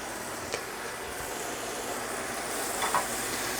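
Salisbury steaks sizzle gently in a pan over low heat, a soft continuous frying hiss with a couple of faint clicks, quiet and steady with no talking.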